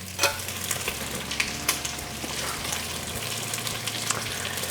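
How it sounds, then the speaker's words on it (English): Bacon sizzles and crackles steadily in a frying pan, with a few sharper pops and occasional scraping, close and moderately loud, no talking. "Got some sizzling bacon."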